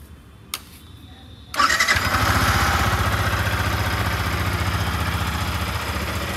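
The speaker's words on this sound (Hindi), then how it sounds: "अब कर लेते हैं बाइक को स्टार्ट और सुनते हैं कि किस टाइप का अपने को एग्जॉस्ट साउंड आने वाला है।" A Yamaha R15 V4 (2022) motorcycle engine cranks and fires up from cold after a brief quiet moment, then settles into a loud, steady, throbbing idle through the exhaust.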